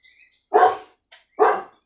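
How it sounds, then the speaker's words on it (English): Two loud, close dog barks about a second apart, with faint high chirps before the first. "Should I just wait for Nacho to stop barking"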